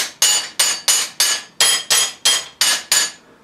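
Nine sharp, crisp crinkling bursts of annealed aluminium sheet being crushed into a ball by hand, evenly spaced and close, each fading quickly.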